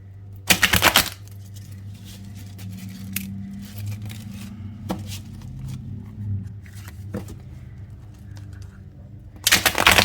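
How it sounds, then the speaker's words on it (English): A deck of cards being shuffled, with two loud riffling bursts at the start and end separated by quieter handling and faint rustling in between. "let's get to shuffling and see what comes out"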